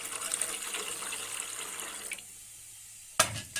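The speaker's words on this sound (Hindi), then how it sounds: "अब इसमें दूध डालने लगी हूँ" About 1.5 kg of milk pours steadily into a kadhai (wok) in a home kitchen, a close liquid splashing stream that stops after two seconds, followed by a brief clatter.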